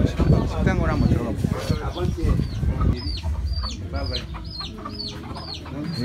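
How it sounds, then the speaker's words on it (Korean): Chicks peep in rapid high chirps beside a restaurant table in Africa while people talk nearby, their voices dominating the first half before the chirping stands out more clearly. "테이블 옆에 병아리들이 있네요."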